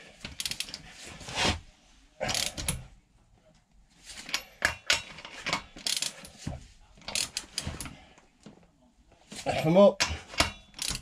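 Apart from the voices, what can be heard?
torque wrench ratcheting motorcycle splash guard bolts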